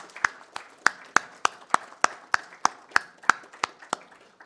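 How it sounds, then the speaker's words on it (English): Steady, evenly spaced hand claps at an engineering award ceremony, about three per second, crisp and fairly close, with a quiet room behind and no voices. "Ladies and gentlemen, a round of applause, please."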